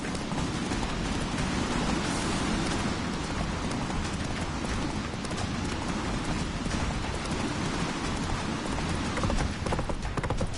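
Roach, the horse in The Witcher 3, gallops in a continuous rapid clatter of hooves, loud and close, layered over a dense wash of game ambience.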